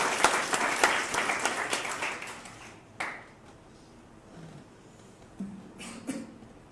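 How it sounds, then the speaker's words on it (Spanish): A church congregation claps for about three seconds, a dense, fairly close wash of applause that breaks off sharply, leaving a few scattered claps and faint room noise afterward. "vamos a aplaudir al Rey Santo"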